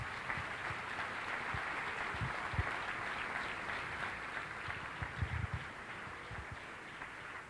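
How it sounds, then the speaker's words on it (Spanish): Church congregation applauding during a Spanish-language morning service, a faint, steady wash of clapping from a distance that keeps going throughout. "Dale un aplauso al Rey esta mañana"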